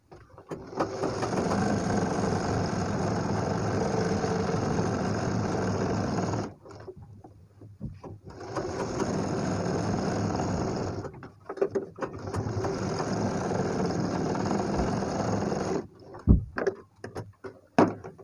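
Close, steady whirring of a sewing machine stitching along the pressed edge of a designer blouse, running in three long sustained bursts separated by short pauses, ending with a few light handling clicks.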